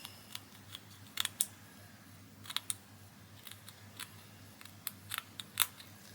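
Scissors snip through fabric around a lacy doily in short, sharp crisp cuts, close and quiet, coming in uneven clusters of clicks.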